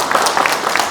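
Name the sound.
audience applause for the county governor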